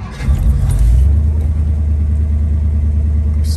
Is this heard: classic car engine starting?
yes